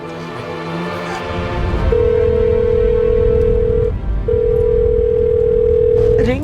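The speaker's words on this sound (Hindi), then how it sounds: "रिंग जा रही है पर विवेक फोन नहीं उठा रहा है।" A telephone call rings unanswered: after a brief lead-in, a steady ringback tone sounds in two long pulses separated by a short gap, loud and clear over a busy low background.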